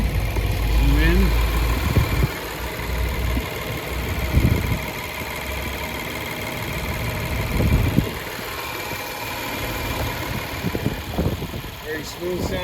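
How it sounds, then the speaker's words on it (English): A 2023 Genesis GV70 3.5T V6 idles at a steady low rumble, close by, with a few brief louder bumps over the constant hum. "Very smooth sounding engine."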